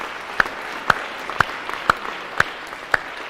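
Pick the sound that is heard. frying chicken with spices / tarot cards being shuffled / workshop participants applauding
workshop participants applauding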